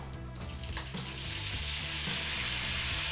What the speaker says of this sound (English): Really hot wok. Start off with some olive oil, and then go in with the meat.